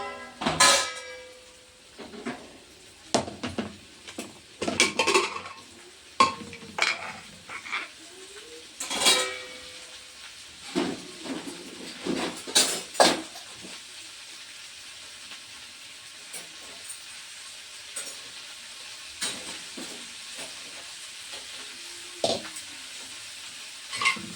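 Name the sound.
okra (bhindi) frying in a pan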